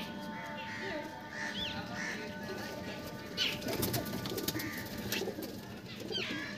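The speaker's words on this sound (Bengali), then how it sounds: "পায়রা খেলা মারছে দেখো, খুব সুন্দর লাগছে।" Pigeons coo softly and repeatedly in a loft, with rustling, wing flutters and light movement noises, plus a few distant other bird calls over a steady background.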